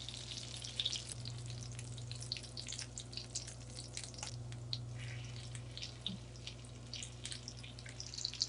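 Albanian lamb meatballs (qofte) sizzle steadily in a pan while being turned to brown, a constant crackling fry with small scattered pops and a faint low hum underneath, no talking.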